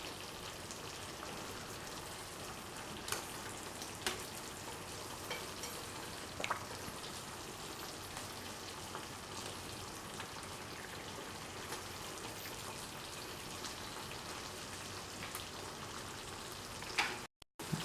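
Manchurian gravy mixture bubbling and simmering with fried cauliflower gobi, a steady soft crackle and hiss throughout with occasional small pops, close and alone.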